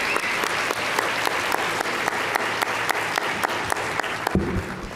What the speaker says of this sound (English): Let's give another round of applause for British Airways.